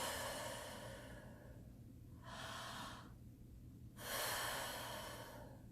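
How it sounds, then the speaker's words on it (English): Deliberate mouth breathing as a dry-land swimming breath exercise: long airy exhales and inhales in separate surges, close to the mic, over a steady low background hum. "You may notice that I'm actually breathing in and out through my mouth."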